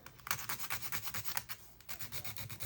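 Sanding a handmade UV resin earring, a steady run of close, rhythmic abrasive rubbing strokes with a brief pause near the end.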